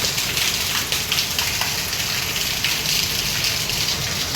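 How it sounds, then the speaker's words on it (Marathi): Rain falls in a constant close roar of drops, loud and unbroken throughout the short stretch, with no voices. "कॅमेरा पाऊस पडतो."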